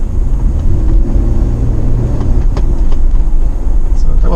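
Toyota Prado engine pulling under hard throttle on a road drive, a loud steady low rumble with road and cabin noise throughout, plus a voice talking over it.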